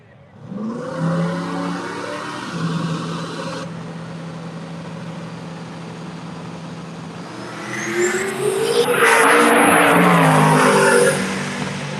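Silver 2000 Ford Mustang with a 5.3 LS engine launching in a drag race, one loud engine climbing through the gears, surging harder near the end, with a faint voice underneath.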